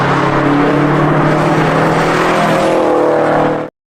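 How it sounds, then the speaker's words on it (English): A car speeds through Zion National Park, its loud, steady engine drone holding without any talk before cutting off abruptly near the end. "That's Jake, A, speeding through Zion National Park"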